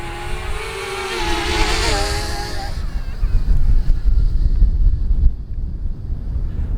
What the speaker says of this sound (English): Boy, the wind is really picked up.